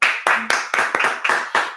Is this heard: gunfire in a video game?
no